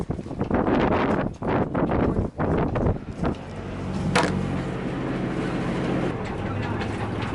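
Wind buffets a small sailing dinghy being launched, a steady loud rushing roar on the microphone with voices shouting over it at first, then continuous blustery wind noise.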